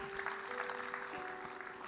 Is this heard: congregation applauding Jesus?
yes